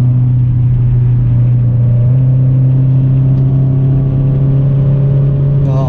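A Toyota MR2 W20 engine holds high revs, producing a loud, steady, close droning hum with a strong low tone that lasts throughout, with no one talking.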